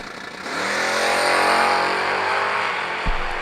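Drag race cars, among them a small Mustang, launch side by side at a million-dollar drag event, a loud rising engine roar swelling from half a second and holding, with a sharp thump near the end.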